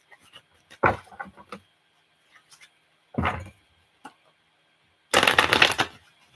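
Tarot cards are shuffled in three short, close riffling bursts, each a crisp flutter of cards separated by near silence, the last burst the loudest.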